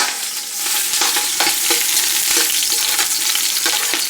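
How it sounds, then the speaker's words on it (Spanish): Chopped onion hits hot oil in a pan for red pork pozole, setting off a loud, crackling sizzle with quick spattering pops that holds steady throughout. "Son 2 cucharadas de aceite que le agregué. Ahora le vamos a poner la cebolla."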